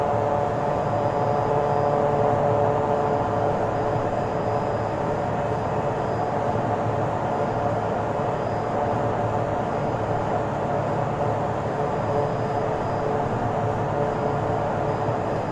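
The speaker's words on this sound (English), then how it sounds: "The outside plane audio is too loud. Yeah, it gets louder when you go outside the plane." Outside airplane engine audio in Flight Simulator 2024 plays as a loud, steady engine drone with a constant hum and rumble. It holds unchanged throughout, with no talking.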